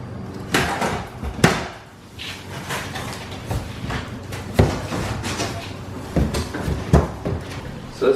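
Drawers of a bathroom vanity are pulled open and handled, producing repeated close wooden knocks, slides and thumps at an uneven pace.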